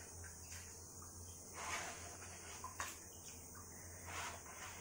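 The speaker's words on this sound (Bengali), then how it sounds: "খোসলাটা অনেকবার ধুতে হয়" Sesame seeds being rinsed by hand in clean water in a home kitchen, giving soft, quiet sloshing and swishing with a few brief splashes, with no talk.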